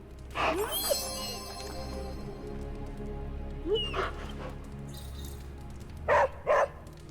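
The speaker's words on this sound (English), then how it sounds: "Where'd that doggy? Where'd that sneaky doggy?" A dog in the video game Midnight Suns barks and yips in short separated bursts, one early, one midway and a quick double bark at the end, over a low ambient hum.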